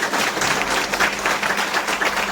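Audience applause for the upline Siddharth at a gathering on earnings success, a dense, steady wash of many hands clapping close by, sustained evenly throughout with no pauses.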